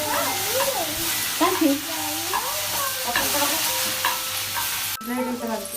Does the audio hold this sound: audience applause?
no